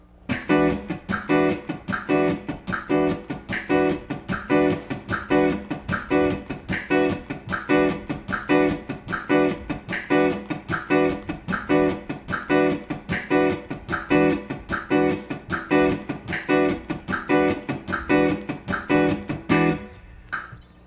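Funk guitar riff with the second sixteenth note of each beat struck and the other three muted, a steady choppy pulse of scratchy accents repeating evenly throughout, loud and alone.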